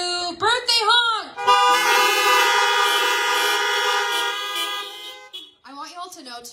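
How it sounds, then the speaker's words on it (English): Car horns blare together in a long sustained chord of several tones lasting a few seconds, loud and close, with people's voices just before and after it. "Birthday honk!"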